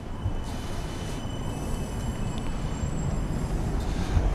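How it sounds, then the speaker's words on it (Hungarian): Tram on a diverted line 3 route through outer Budapest, a steady rumbling rail roll with faint wheel squeal and high tonal whine, moderately near and continuous without talk. "A villamos közben elmegy megfordulni"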